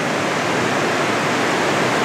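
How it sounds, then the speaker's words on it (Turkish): The Zeytinli stream, fed by a waterfall in the Kaz Mountains, runs through a village with a loud, constant broadband rush of flowing water and no voices. "Kaz Dağları'ndaki Stüven Şelalesi'nden doğan Zeytinli Çayı böyle görmüş olduğunuz gibi köyün içinden geçerek"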